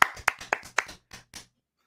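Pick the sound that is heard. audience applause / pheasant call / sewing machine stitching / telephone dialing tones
audience applause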